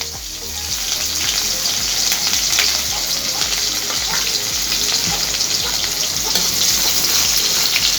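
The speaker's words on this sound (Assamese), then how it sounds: "এতিয়া মই পিঁয়াজখিনি ভাজিম।" Onions frying in oil in a pan for a giant taro and fish curry, a loud, steady, close hiss and crackle of sizzling with a few stirring sounds, lasting throughout.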